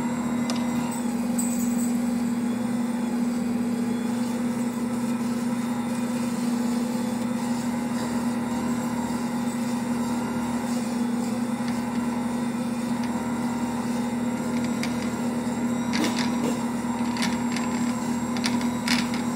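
An Ankarsrum stand mixer kneads bread dough with a steady, unbroken motor whir and faint mechanical rattle, close and even throughout with no voices.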